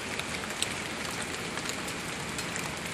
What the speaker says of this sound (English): Right now the rain is freezing.